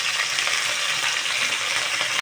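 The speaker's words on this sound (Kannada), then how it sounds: "ಬಾಣಲೆ ಇಟ್ಟು ಎಣ್ಣೆ ಹಾಕಿ, ಸಾಸಿವೆ ಹಾಕಿ, ಈರುಳ್ಳಿ ಹಾಕಿದ್ದೀನಿ. ಸೊ ಕರ್ಬೇವಿನ ಸೊಪ್ಪು ಸ್ವಲ್ಪ ಹಾಕ್ತಾಯಿದ್ದೀನಿ." Curry leaves hit hot oil in a pan already holding mustard seeds and onion, giving a loud, continuous, close-up sizzle that runs steadily throughout before cutting off abruptly at the end.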